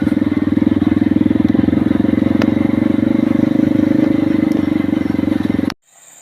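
A motorcycle ridden along a narrow, poorly kept road in PALI–Musi Rawas, Indonesia, approaching an iron bridge: a loud, close, steady engine drone with rattling, held throughout before cutting off abruptly near the end.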